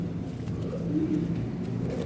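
A long-bodied pigeon coos softly in low, rolling murmurs, steady and close against a faint background hum.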